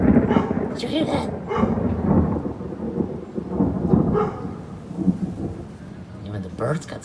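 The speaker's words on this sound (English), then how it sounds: "Sounded like thunderstorm to me." A neighborhood thunderstorm rumbles steadily, with rolling thunder and rain washing under the whole stretch while people talk intermittently.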